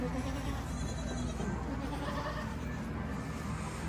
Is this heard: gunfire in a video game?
no